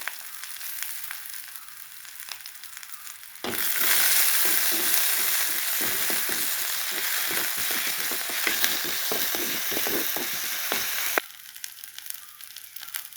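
A sudden burst of loud, crackling sizzle as pandan, curry leaves, cardamom, cloves and cinnamon hit hot oil, spitting steadily for several seconds before calming to a quieter hiss.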